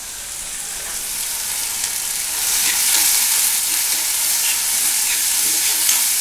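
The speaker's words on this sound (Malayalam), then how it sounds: "ചെറിയുള്ളി നന്നായി വഴറ്റിയെടുക്കുക." Shallots sautéing in oil in a pan for Kerala-style pepper chicken fry, giving a steady, close frying sizzle that swells slightly partway through, with faint stirring scrapes and no voices.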